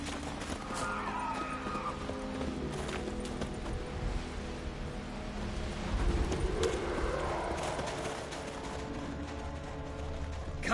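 Hoofbeats and a horse's whinny in The Witcher 3, a clip-clop gait under dense game music and ambience, fairly loud and steady throughout with a brief burst near the middle.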